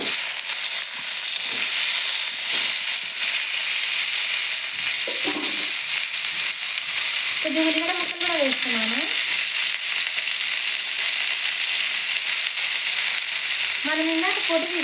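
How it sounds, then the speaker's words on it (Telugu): Tomato pieces hitting a hot pan and sizzling, a continuous close frying hiss with occasional scrapes and short tonal squeaks, no voices. "ఇప్పుడు టమాటాలు వేస్తున్నాను టమాటా ముక్కలు"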